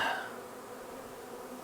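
A large swarm of honey bees buzzes close by, a dense steady hum that starts a little louder and then settles into an even drone with no voices.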